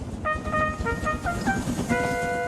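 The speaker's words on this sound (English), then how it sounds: "Then he heard a whistle." A toy train whistle sounds in several steady, bright tooted notes, moderately loud, over background rumble and clatter of a wooden railway.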